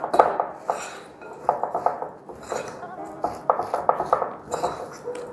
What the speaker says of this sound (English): I'm gonna just mix all the dry ingredients together